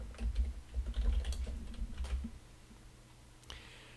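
Fingers tap quickly on a computer keyboard, a soft close clatter of keystrokes for about two seconds, then a pause and a last lone click.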